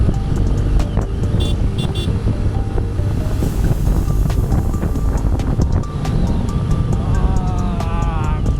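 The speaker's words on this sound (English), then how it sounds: "the wind blast is so crazy" A heavy wind blast roars continuously and loudly against the microphone, a dense low rumble with faint tonal whines and scattered clicks mixed in.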